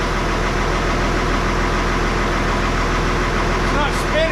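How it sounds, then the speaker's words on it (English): A Ford 8000 tractor's diesel engine idles with a steady, rough, loud chugging throb, close by and continuous, with no speech over it. "Here it's running. It finally primed all the injectors."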